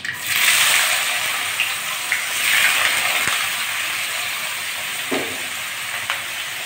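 Thin-cut potatoes, rinsed and dropped into hot oil with black cumin seeds, sizzling with a steady bright hiss and occasional soft crackles, fairly close and continuous with no talk.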